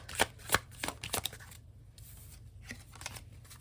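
Tarot cards handled and shuffled after one was dropped, quick papery riffles and slaps in several bursts, close and fairly quiet with brief gaps between.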